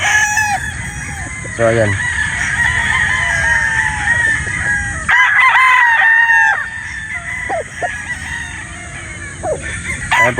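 Gamecock roosters, yellow-legged hatch sweater battle stags at a game farm, crowing loudly and repeatedly with overlapping calls and some clucking, while someone talks over them throughout.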